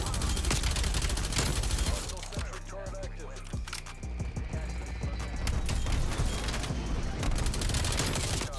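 Rapid automatic gunfire from an LC-10 submachine gun in a Call of Duty-style shooter, loud sustained bursts with brief gaps, layered over a busy game mix.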